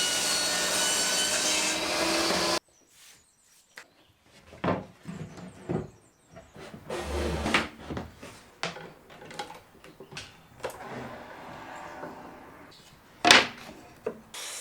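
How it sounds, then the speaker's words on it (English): Wood cutting on a table saw and miter saw through 18mm pine plywood, heard as a run of separate sawing and handling bursts with clattering knocks between cuts, close and fairly loud, with a steady whine in the opening seconds. "Which I sized up into the stand's basic components using my table and miter saw."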